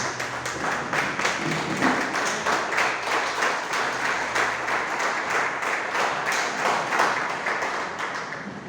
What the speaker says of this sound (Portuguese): dê um louvor de palmas para Jesus